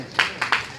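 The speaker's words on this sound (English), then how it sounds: "Give God a round of applause." Congregation applause at a church service, heard as three short bursts of clapping with brief pauses between, moderately close and fairly faint.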